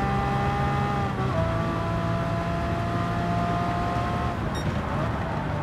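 A mid-to-late 1990s Ferrari race car in Gran Turismo 7 holds a steady, sustained engine drone with a slight pitch shift partway through, constant and fairly close.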